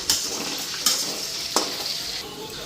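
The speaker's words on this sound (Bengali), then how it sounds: "তো এদিকে আলুটাও ভাজা বসাই দিলাম।" Potatoes frying in a pan give a steady close sizzle, with three sharp stirring scrapes of a utensil against the pan at regular intervals.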